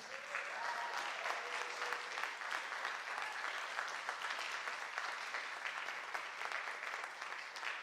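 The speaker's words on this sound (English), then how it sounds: "please give another big round of applause" Sustained audience applause fills a senior recital hall, dense and steady throughout with no speech over it.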